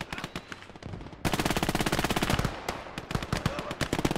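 Rapid machine gun bursts in a World War II battle in Gates of Hell: Ostfront, a lighter stutter opening before a dense, loud volley of repeated shots that runs on with scattered gunfire mixed in.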